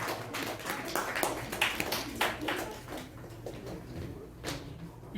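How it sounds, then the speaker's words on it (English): At a youth leadership event, an audience gives scattered, uneven clapping for the best dressed youth leader as he comes to the stage. The applause is fairly faint and distant, thinning out toward the end. "Let us give him a round of applause."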